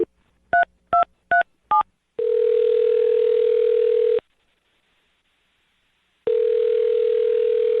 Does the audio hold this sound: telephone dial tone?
yes